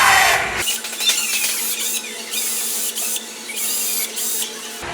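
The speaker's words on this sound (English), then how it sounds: "using the drill, we want to drill out our pilot holes about 1/4 inch to 1/2 inch down" Power drill boring pilot holes into a table, a steady high-pitched whirring grind that cuts in abruptly and runs continuously with slight pulses, close and loud.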